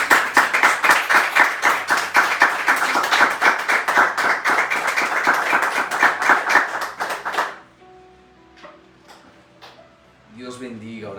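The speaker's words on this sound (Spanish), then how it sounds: "Dele un fuerte aplauso a Jesús" Church congregation clapping together in a steady, rhythmic unison beat for several seconds; the clapping then stops abruptly and a voice speaks amid scattered quieter sounds.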